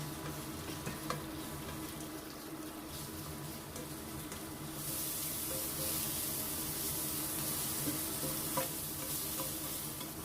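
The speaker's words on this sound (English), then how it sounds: "In a pan, add an oil, cook the shrimp until it curls and pinkish in color" Shrimp frying in oil in a pan, a steady close crackling sizzle that runs continuously and grows louder and brighter halfway through, with no talking.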